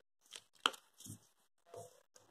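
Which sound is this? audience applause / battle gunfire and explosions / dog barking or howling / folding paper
folding paper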